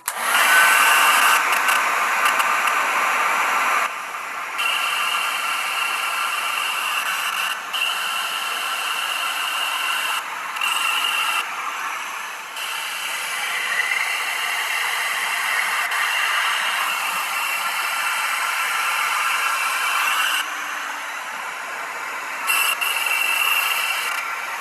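A hair dryer blows steadily to dry wet paint on a painting, a close, continuous breathy hiss with small shifts in tone as it is moved about, running alone for the whole stretch.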